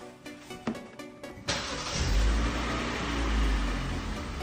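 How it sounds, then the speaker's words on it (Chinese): A car with a dead battery is jump-started from an emergency power bank: a short crank catches at once, and the engine settles into a steady, close idle rumble with no speech. "我们先用这个应急电源给它搭电搭着火"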